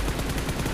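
Video game gunfire spraying in a rapid automatic burst, loud and close, with shots fired in quick succession.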